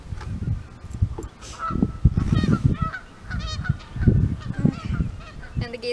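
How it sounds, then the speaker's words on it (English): A flock of geese honking repeatedly nearby, overlapping calls with some outdoor background noise. "And the geese were right back there"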